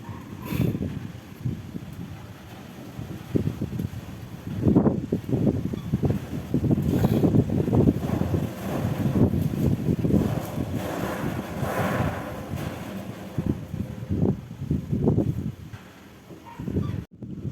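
Strong typhoon wind gusting at night around a house, a rough, surging roar that swells and fades in uneven waves, loud and close against the microphone.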